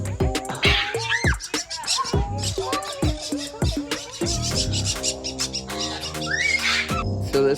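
A flock of Quaker parrots at a bird farm squawks and chatters loudly and close, overlapping harsh calls and chirps in dense, busy bursts.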